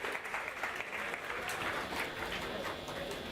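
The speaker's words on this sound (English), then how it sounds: "You should clap" Steady crowd clapping at a TEDx university talk, a continuous even roar of many hands heard from the stage at moderate level, holding without a break.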